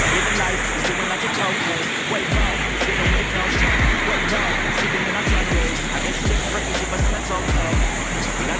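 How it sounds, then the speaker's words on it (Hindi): Fast water surging through the Sapan Hajara canal at Jhabar in Uttar Pradesh, a steady broadband roar that fills the whole clip, loud and close, with no talk over it. "आप देख सकते हैं कितनी तेजी से पानी निकल रहा है यहाँ पर"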